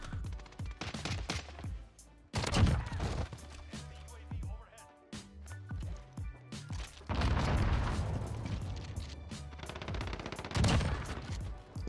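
A fire shotgun in the Modern Warfare video game fires in bursts of loud, booming shots, with clusters separated by brief lulls and a sustained volley later on.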